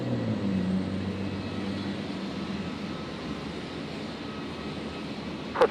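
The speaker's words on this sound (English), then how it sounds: "Qantas 541 there, the 73 heading down to Sydney" A Qantas Boeing 737 airliner departing Brisbane for Sydney gives a steady, distant engine roar that holds evenly throughout, with a brief sharp sound at the very end and no talking.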